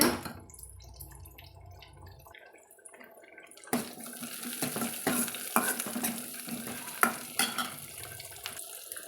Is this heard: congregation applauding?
no